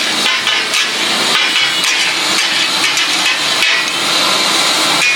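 Two sharp blades chop rapidly on a hot griddle while taka tak is cooked at a Pakistani street food shop in Gujranwala, a dense stream of metallic clacks over a sizzling hiss throughout.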